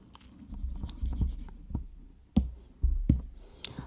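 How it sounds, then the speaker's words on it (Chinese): Chalk or marker writing being wiped off a classroom board during a maths lesson, a run of soft scratchy strokes and bumps, several sharper thumps near the end, close and moderately quiet with no talk. "我把這邊把它擦掉。"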